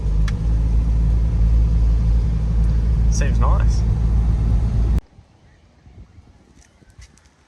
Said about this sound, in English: Yeah, so the car's driving a lot better.